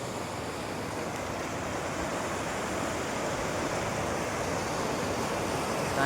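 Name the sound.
village river in flood, rushing water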